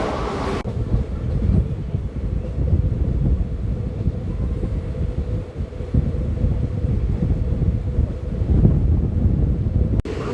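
Garudadri Express train running from Tirupati toward Chennai, a loud, steady rumble of wheels and carriage with wind buffeting, continuous throughout with no talk.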